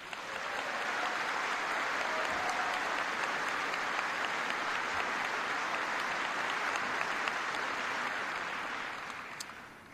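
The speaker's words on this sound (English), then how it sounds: "so give them a big round of applause." A large audience at a speech on troop withdrawal from Iraq gives a sustained round of applause, steady and full for about ten seconds before tapering slightly at the end.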